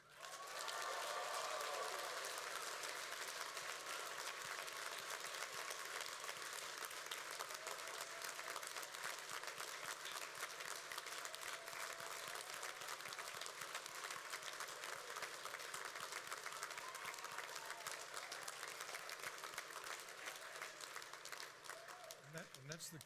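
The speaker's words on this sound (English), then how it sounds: "that's the kind of enthusiastic applause I want to hear for every single graduate who comes up on stage." Sustained, enthusiastic applause from a large audience at a university graduation ceremony, a continuous dense wash of clapping that holds at an even level for over twenty seconds, heard from some distance in a big hall.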